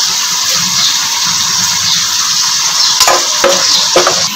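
Chicken karahi with salt being stirred in a hot pan, a loud close sizzle with steady hiss, then several sharp scraping knocks of the utensil near the end, no talking.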